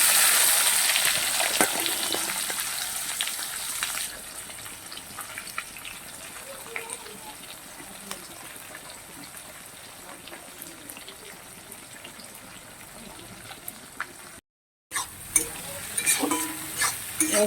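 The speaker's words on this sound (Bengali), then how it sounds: "পেঁয়াজগুলোকে ভাজবো এগুলো খুব কুচি কুচি করিনি" Sliced raw onions fry with cumin seeds in a pan, giving a steady close sizzle broken by scraping stirs, while a voice talks over the cooking.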